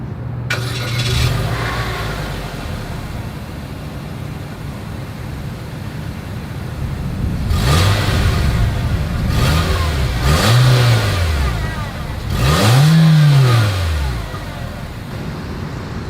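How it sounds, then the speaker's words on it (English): A 2022 Nissan Kicks engine starts and idles near the exhaust, then revs up and falls back three times in rising and falling swells, each louder than the last. "As always, here is that exhaust clip."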